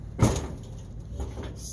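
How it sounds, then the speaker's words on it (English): An old Ford's hood with wonky hinges pushed down and latching: a single close dull thud at the start, a softer knock about a second later, then quiet. "We've gently got to push the hood down."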